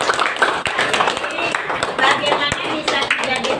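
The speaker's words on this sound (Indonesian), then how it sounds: "Tepuk tangan dulu." Children clap together in an Indonesian classroom during a plant biology lesson, a quick burst of close hand claps with talk mixed in.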